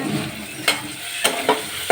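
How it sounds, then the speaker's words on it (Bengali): Onion fries in a pan, a soft sizzle running underneath while a spatula scrapes and knocks sharply about four times. "পেঁয়াজটা ভাজা হচ্ছে"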